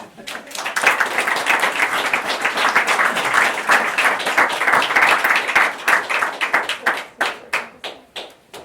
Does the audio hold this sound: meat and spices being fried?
no